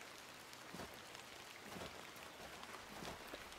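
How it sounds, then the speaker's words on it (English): Steady rain falls in the video game The Excavation of Hob's Barrow, a soft continuous hiss of drops on surfaces with faint patter, even and unbroken throughout with no voices. "It would seem you don't find the rain quite as romantic as I do."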